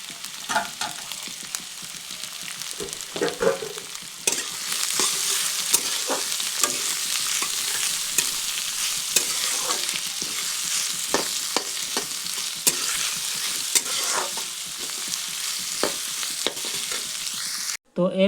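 Chopped onion and carrot fry in a pan for street-style chowmein, giving a steady, close sizzle with repeated scraping and stirring strokes throughout, no talking.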